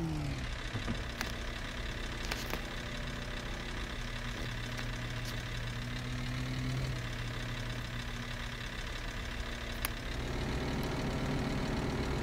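A logging truck struggles on a snowy winter logging map in a driving video game, its drive shaft giving out. The engine drones steadily and loudly with a rough, knocking tone throughout, and no one talks.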